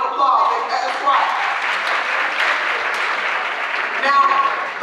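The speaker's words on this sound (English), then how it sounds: "Y'all give her a round of applause." An audience applauds at a chef's school-staff event in Chesapeake, Virginia, a dense burst of clapping that swells and holds for several seconds while a voice speaks over it.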